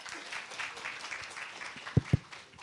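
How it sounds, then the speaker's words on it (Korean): Audience applause welcomes an SK Telecom IoT ecosystem team leader at a tech conference, a fairly faint, steady patter of clapping with two sharper thumps near the end. "여러분 큰 박수로 환영해 주시기 바랍니다"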